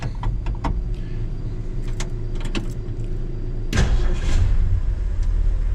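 A 1965 Jeep Gladiator J-300 sits amid a few close clicks and a key jangle, then its engine catches with a louder burst and settles into a steady idle rumble.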